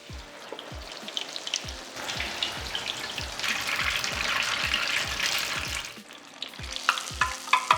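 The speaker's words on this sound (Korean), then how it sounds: "잘 반죽해 놓은 모찌 리 도우를 담고 튀겨 줄게요" Oil sizzles and crackles as battered mochi tofu is deep-fried in a strainer basket, a bubbling hiss that swells in the middle, with occasional clinks and taps of utensils.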